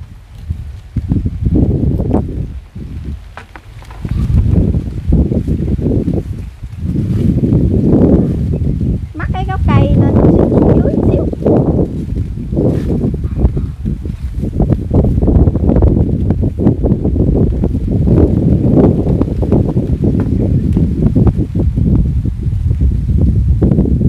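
Strong wind buffets the microphone outdoors beside a pond in the Mekong Delta countryside, a loud continuous rumble with gusts and rustling, and a person speaks intermittently beneath it.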